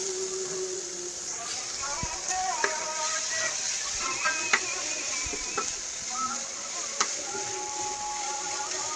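Fried vegetables and potatoes stirred in a multi cooker: soft scraping and occasional ticks of a utensil over a steady sizzling hiss, close by, with a voice talking at times.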